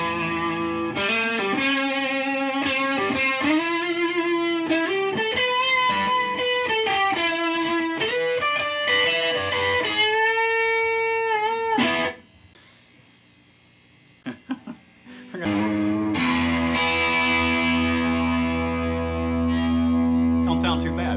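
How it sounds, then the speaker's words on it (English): A Firefly FFDCD electric guitar on the rhythm pickup setting, run through a Blues Driver overdrive, plays lightly distorted chords and melodic lines for about twelve seconds, pauses with a few scattered notes, then resumes with sustained ringing chords. "Gonna add a little dirt with a Blues Driver, and we are on the rhythm setting for the pickups."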